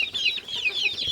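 Native desi hens and roosters cluck steadily on a poultry farm, a continuous chorus of close, overlapping clucks with no talking.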